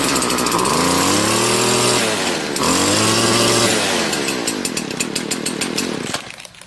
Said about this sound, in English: put it in the choke position, and crank it till it starts up